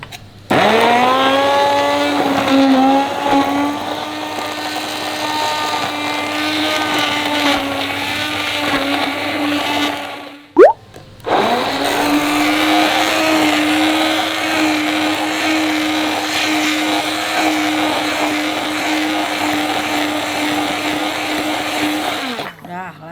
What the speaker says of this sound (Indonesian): Habis itu kita tinggal blender, halusin.